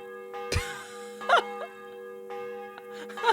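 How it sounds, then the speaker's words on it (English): A church bell rings at night in the medieval game Kingdom Come: Deliverance, giving a few sparse tolls over steady ambient tones and low background hum. "Ringing the bell in the middle of the night."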